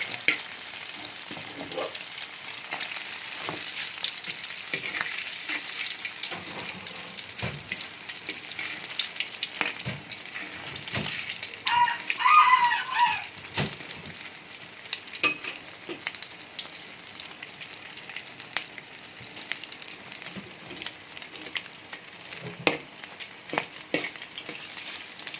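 Instant noodles mixed with egg fry in hot oil for a pizza-style noodle dish, giving a steady close crackling sizzle throughout with occasional sharper pops and stirring scrapes, no talking.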